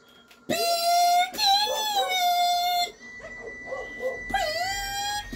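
Dogs in the video game Zelda: Majora's Mask bark and let out long, rising and falling howls, loud and close, with a brief pause before another howl starts.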